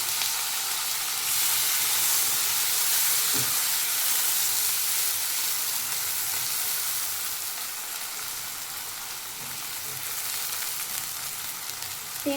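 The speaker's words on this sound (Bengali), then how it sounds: "এই তেলের মধ্যে আমি পেঁয়াজ কুচি দিয়ে দিচ্ছি।" Chopped onion fries in oil left from frying fish, a steady broad sizzle that stays fairly loud and constant, with occasional faint scrapes of stirring.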